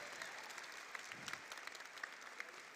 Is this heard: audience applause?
yes